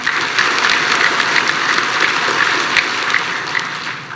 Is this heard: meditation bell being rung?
no